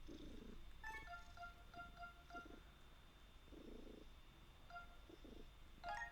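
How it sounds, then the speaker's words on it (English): A cat purrs in soft, rhythmic pulses close by and faintly, while high electronic game beeps and tones play over it. "She is purring so hard right now."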